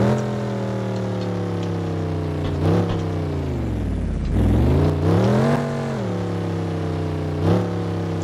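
A truck engine drones in the Campsite Hustle video game, a steady motor hum that rises and dips in pitch as it revs and shifts, with no talking.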